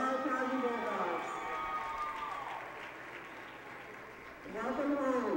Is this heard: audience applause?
yes